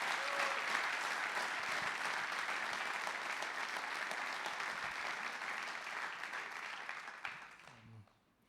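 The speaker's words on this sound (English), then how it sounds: "So I think let's just give them all, again, a round of applause." Sustained audience applause at an evening church service during a sports conference, a dense, even wash of clapping that tapers off near the end.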